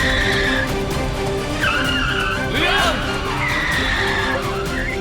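Car tires squealing as the car skids to a stop, with long screeching sweeps repeated several times over a loud, steady engine roar.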